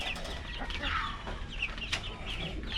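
Several backyard chickens cluck and chatter in steady, overlapping bursts, close by and fairly loud against a soft outdoor background.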